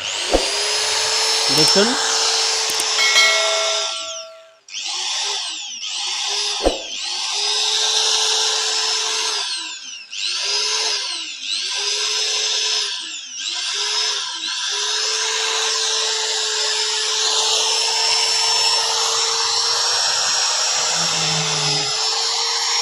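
A Makita M0910 angle grinder, just fitted with a new armature, spins up to a loud steady high whine, repeatedly revving up and easing off in short bursts. Someone speaks briefly at the start.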